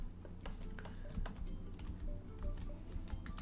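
Computer keyboard keys pressed during ZBrush modelling work, a quick run of close, soft clicky taps at an irregular rhythm, alone with no voice.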